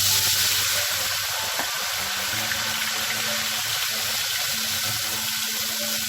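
Ghevar batter poured from a height into very hot, smoking oil for lattice-style ghevar, a loud continuous hiss and sizzle of frying with crackling bubbles, steady throughout and close.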